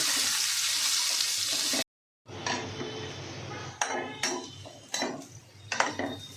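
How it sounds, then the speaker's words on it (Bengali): Potatoes fry in oil in a pan for a bottle gourd and prawn dish. A loud steady sizzle stops abruptly, then resumes softer, broken by sharp clinks and scrapes of a utensil against the pan. "আমি এই আলুটাকে ভালো করে ভেজে নেব।"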